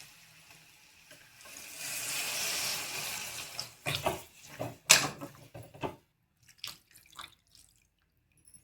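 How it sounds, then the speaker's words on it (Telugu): Water is poured from a tap or jug into a pan of onion curry for potato curry, a steady splashing stream for about three seconds, followed by close kitchen clatter and a few knocks of utensils. "ఉడికేకి తగిన నీళ్ళు అయితే వేసేస్తా"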